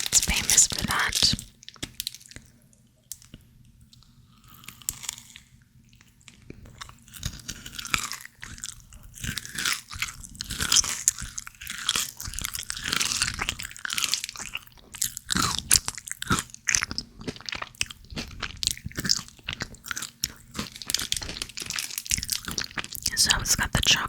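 Close, crisp biting and chewing of a British chocolate bar with nougat and caramel, wet crunchy mouth sounds in an intimate ASMR style, interspersed with soft whispered talk and faint wrapper crinkles.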